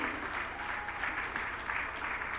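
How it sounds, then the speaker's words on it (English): Warm audience applause at a crowded pre-departure orientation event in a full hall, steady dense clapping throughout with no voices over it. "Make the applause warm for him,"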